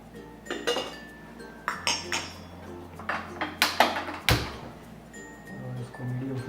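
A metal tadka pan is set down on a gas stove in a home kitchen, giving a series of clanks, clinks and scrapes of cookware at close range, with a low steady hum beneath.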